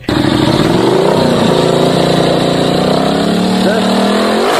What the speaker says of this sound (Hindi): अरे बाइक हटा सामने से अरे अरे बाइक वाले